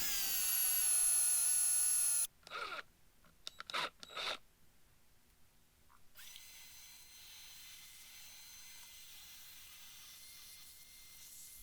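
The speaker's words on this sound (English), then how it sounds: "I'm just going to drill a hole so that the sleeve fits inside of it." A power drill bores a hole in a furniture leg for a sleeve insert: a quiet, steady motor whine for about two seconds, then a few short scraping bursts and faint rustling.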